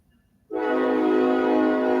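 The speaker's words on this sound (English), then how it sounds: "that's a train." A train horn blasts suddenly and holds steady and loud after a quiet moment, with no talking.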